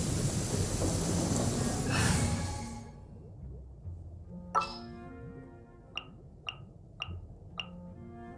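Heavy rain and thunder in the video game Genshin Impact: a dense broadband rain wash and rumble fading after two seconds, then sharp isolated clinks and ticks over a low ambient bed.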